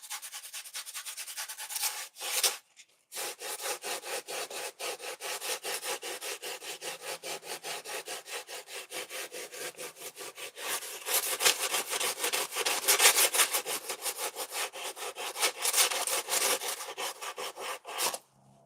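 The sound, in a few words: sanding foam pumpkin sculpture with 120-grit sandpaper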